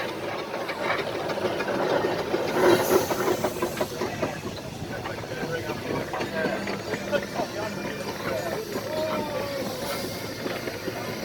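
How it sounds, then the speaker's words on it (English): A 1923 Aveling & Porter 12-ton G-type steamroller running along an arena at an island steam show: a steady, continuous mechanical hiss and rumble with faint rhythmic chuffing, heard at a distance under crowd murmur and voices. "1923, Aveling & Porter 12-ton G-type steamroller going along the top side of the arena, owned by Andy Barrett"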